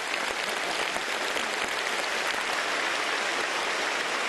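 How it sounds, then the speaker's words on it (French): Applause sweeps through a large audience in a hall, a dense, steady roar of many hands clapping from every direction, sustained without any break or speech. "Ces applaudissements sont une expression de résonance, de réponse et de salutation"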